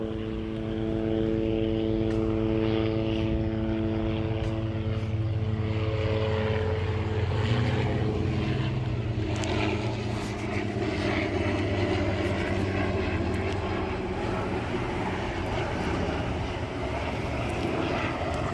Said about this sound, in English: Got a helicopter up there going.